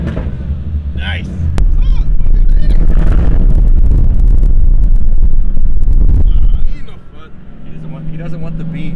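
A supercharged Cadillac CTS-V with a loud exhaust revs hard, a sustained deep roar swelling for several seconds before dropping off, with people talking over and around it.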